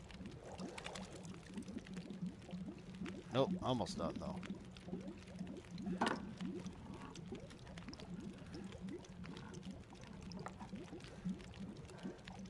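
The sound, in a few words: water boiling in The Long Dark video game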